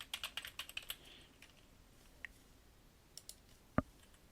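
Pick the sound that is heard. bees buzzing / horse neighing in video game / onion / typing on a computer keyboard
typing on a computer keyboard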